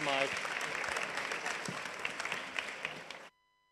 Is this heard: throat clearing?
no